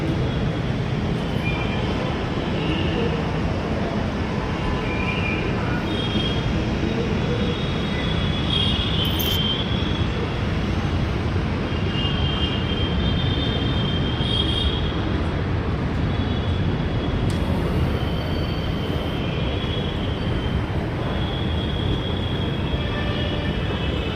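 Riding inside a Hyderabad metro train brings a steady, loud rumble of wheels and motion that stays constant throughout, with no clear voices.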